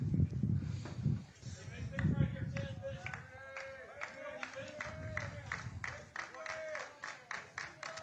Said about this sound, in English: Everybody's clapping in that Owls dugout